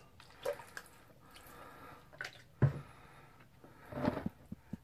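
Water added to syrup while mixing fake blood for special effects, a few soft separate splashes and drips with quiet gaps between them, close and faint.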